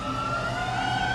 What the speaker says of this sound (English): there go the fire engines now